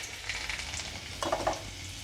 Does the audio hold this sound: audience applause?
no